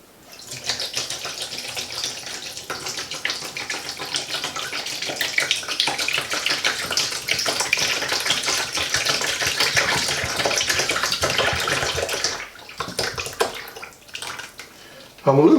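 Water mixed with acorn starch is poured in a steady, splashing stream for about twelve seconds, then trickles and splashes again near the end, with some talking underneath.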